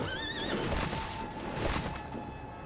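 A Hell Horse in the video game Bloodstained: Ritual of the Night lets out a loud, close whinny with a wavering, rising pitch, followed by clattering hoof and impact noises.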